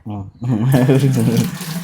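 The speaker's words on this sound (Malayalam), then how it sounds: "ഇപ്പൊ കുറച്ച് വെള്ളം ഒഴിക്കാനാ" Water poured into a kitchen vessel, a continuous splashing rush that starts partway in, partly masked by a person talking over it.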